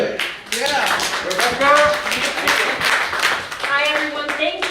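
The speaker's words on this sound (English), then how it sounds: "Let's give her a round of applause too." Clapping from people at a community meeting, brisk and close, running under overlapping voices and chatter including a voice.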